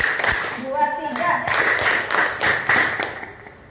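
In an Indonesian classroom, pupils clap their hands in counted rhythmic patterns. The groups of sharp, close claps come in short bursts, with voices talking between and over them.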